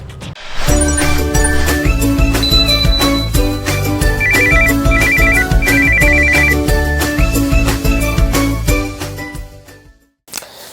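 Telephone ringtone playing a loud, bright electronic melody with tinkling high chime notes in a repeating pattern, continuous for about ten seconds before cutting off abruptly.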